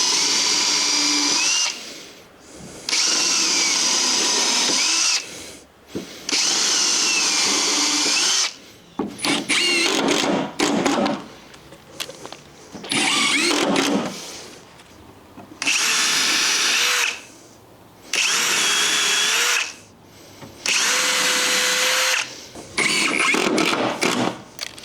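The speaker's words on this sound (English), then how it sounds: "completely screw off both of the joists where I had the packers in" Power drill driving screws into timber deck joists over a concrete slab, in repeated bursts of a few seconds each with short pauses between, loud and close with no talking.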